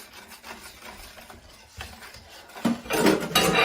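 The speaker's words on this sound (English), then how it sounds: "add in your cognac while stirring" A spoon stirs cognac into a batter for Greek honey walnut melomakarona cookies, giving soft scraping and clinking against the bowl that grows louder and busier toward the end.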